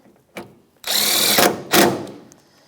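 A power tool with a 10mm socket snugs down bolts on a Toyota RAV4 coolant reservoir, sounding as two short, close whirring bursts after a brief tap, with quiet pauses between.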